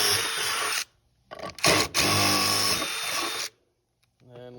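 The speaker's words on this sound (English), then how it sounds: "We're going to take our step bit" A power drill with a step bit bores holes in a box for a Herd seeder speed control assembly, with several loud whining bursts separated by short pauses and a brief voice at the end.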